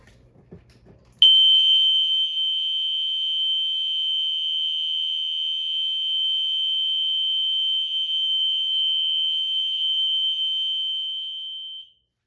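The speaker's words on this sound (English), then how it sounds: "we're on to the second alarm, the white spectral alert" A white System Sensor SpectrAlert fire alarm sounds one steady, loud, piercing electronic tone, continuous and unbroken for about eleven seconds before cutting off abruptly, with faint rustling just before it starts.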